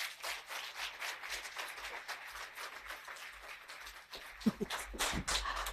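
A conference audience applauds a panelist at a FirstRand panel discussion; the clapping is fairly faint and diffuse, holding steady before a few louder, closer claps near the end.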